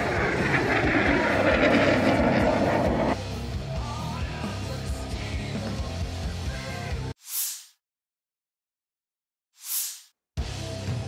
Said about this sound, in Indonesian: Беспилотник.